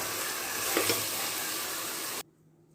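Chicken biryani masala with yogurt is stirred in a hot pan, giving a close, steady sizzle with scraping and stirring sounds. It cuts off abruptly near the end.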